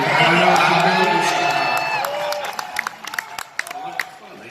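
A fan crowd at a Rush fan day with two of the band members cheering and whooping in a loud swell at the start, then settling into scattered claps and shouts as a voice speaks over it.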